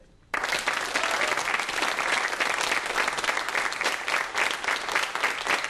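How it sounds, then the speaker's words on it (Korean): A lecture-hall audience at a public physics talk claps together, starting abruptly and holding a steady, dense unison beat for several seconds, loud and close, with no voices over it. "그 박수를 잘 들으시면서 그 박자에 맞춰서 여기에 계신 모든 분들이 똑같은 박자로 박수를 쳐주시기 바랍니다"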